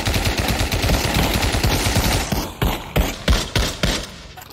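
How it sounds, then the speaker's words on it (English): Rapid automatic gunfire from a VR zombie shooting game, a steady burst of fast shots followed by several separate heavier single shots, loud and close with no talk. "Let's shoot them."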